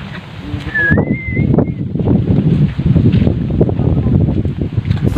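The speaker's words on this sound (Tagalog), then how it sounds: "Ang lakas ng hangin." Loud, steady typhoon wind rushes and buffets close to the microphone, with a brief thin whistling tone rising early on, and no voices.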